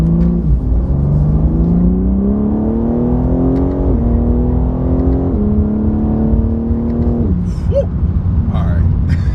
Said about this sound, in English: I had a little straight there, so I had to punch it just to really get on it